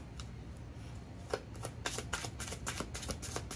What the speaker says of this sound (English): I had to shuffle to that.